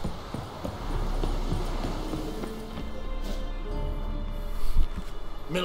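Horse hooves clip-clop in The Witcher 3, a steady close trot over a low background hum, growing louder and more rapid toward the end, with no talking.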